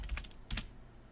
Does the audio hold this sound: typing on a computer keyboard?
yes